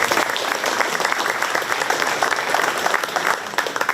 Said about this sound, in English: give these market heifer exhibitors a round of applause